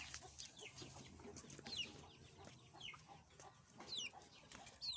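Chickens and chicks cluck and chirp softly in short bursts, faint and somewhat distant, over a quiet background.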